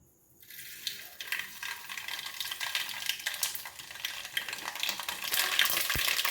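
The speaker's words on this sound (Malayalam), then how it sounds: "ഇനി നമുക്ക് കടുകിടാം." Mustard seeds spluttering in hot oil for garlic pickle, a steady close crackle and sizzle that builds after a quiet start, with scattered sharp pops throughout.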